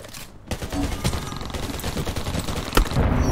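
Rapid bursts of gunfire crackle through a PvP match in the video game Undawn, with sharp overlapping shots and a louder crack near the end.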